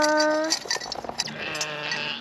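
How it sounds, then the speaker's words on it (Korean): Goats at a petting farm in Pyeongchang, Gangwon, bleat loudly and close by while being hand-fed, with several overlapping cries and no talking. "이 염소도 달래."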